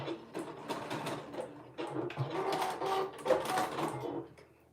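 A sewing machine and serger stitch sleeves, giving a close, fast mechanical whirring in uneven bursts with small pauses, moderately quiet and with no talking.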